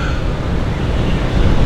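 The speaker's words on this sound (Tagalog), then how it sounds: "Very windy, man." Strong wind roars steadily against the microphone, a constant broadband rumble with no pauses.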